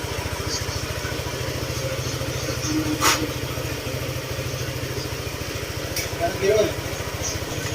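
A rebuilt motorcycle engine with an aftermarket crankshaft and block set idles steadily, with a close, even low pulsing throughout and a couple of brief clicks.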